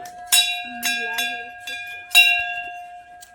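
Several bright metallic temple bell strikes ring out in an irregular sequence in Rajgir, each leaving a sustained humming tone, with voices faintly in the background.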